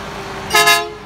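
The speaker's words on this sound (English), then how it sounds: "You gonna make them honk for you" A garbage truck sounds one loud, close horn honk lasting about a third of a second over steady street and engine noise, with no talking.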